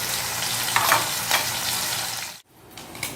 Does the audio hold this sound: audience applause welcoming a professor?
no